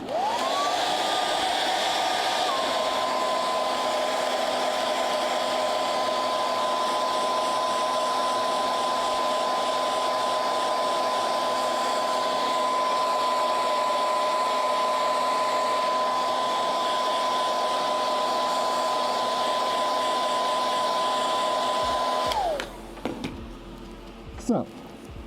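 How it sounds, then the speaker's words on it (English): A hair dryer blows loudly and steadily at close range for about twenty seconds, then switches off, leaving faint handling noises. "Once again, we're going to hit it with a hairdryer."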